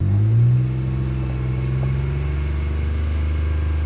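A Ranger XD 1500 side-by-side fitted with an EVP exhaust revs up to about 3,000 RPM and holds there, a steady deep growling drone close by with a slight swell near the start and no talking.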